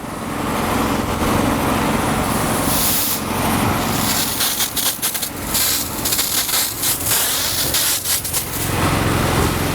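A SprayMaster seal coat spray tank wand sprays sealer at about 80 psi, producing a loud, continuous hiss over an engine drone, with some brief choppy dips partway through.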